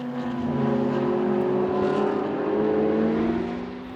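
Race cars circuit racing in a televised motorsport event, a dense steady drone of several engines howling together at high revs, loud and continuous throughout with slight pitch shifts as they jostle in a pack.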